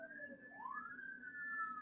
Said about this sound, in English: Oh boy, I got sirens all over the place.